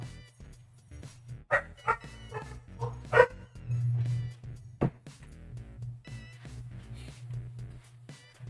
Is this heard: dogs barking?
yes